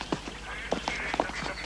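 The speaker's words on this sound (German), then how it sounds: "Wir haben viele, viele, viele Enten." Farmyard ducks quacking in a series of short, separate calls, fairly close, over a steady low background hum, with no talk.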